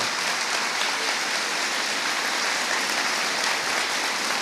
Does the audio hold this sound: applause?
yes